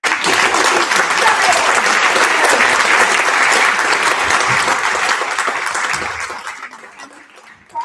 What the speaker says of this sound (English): A round of applause to our panel who made out